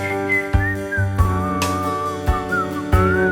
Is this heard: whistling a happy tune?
yes